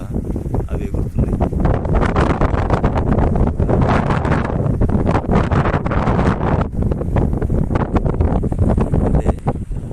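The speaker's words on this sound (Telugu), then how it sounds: "గాలి వస్తుంది. ఆ గాలికి ఎదురుగా అవి ఎగురుతుంది." Strong wind gusting outdoors, buffeting the microphone with a loud, continuous broadband roar for the whole stretch, where birds fly against the wind.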